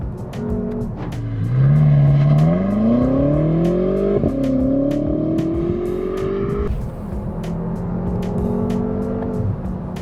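A BMW M5 F10 with 560 horsepower launches hard from a standstill, its engine note climbing steeply and dropping at each upshift, loud and close with a rising roar.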